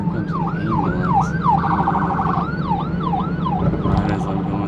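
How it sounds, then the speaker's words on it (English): An ambulance siren wails in rising and falling sweeps, switching briefly to a rapid yelp, loud and close as it passes through a street intersection over steady road and engine noise. "Oh crap, there comes an ambulance."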